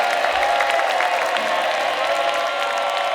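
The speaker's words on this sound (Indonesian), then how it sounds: "Tepuk tangan sekali lagi boleh dong buat Nyinyir." A studio audience applauds after a dance performance on a talent show, a continuous wash of many hands clapping with faint cheering, steady and loud throughout.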